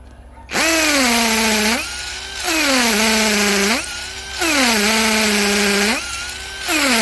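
A cheap cordless drill fitted with a bit whines loudly in four sustained runs, its motor pitch dipping under load then rising again, with short quieter gaps between bursts.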